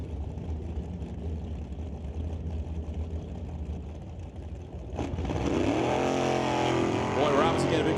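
Drag racing launch as a Crown Vic and a 1927 Ford Roadster leave the line, engines surging into a loud rising roar after a steady rumbling idle, with announcer-style talk running underneath.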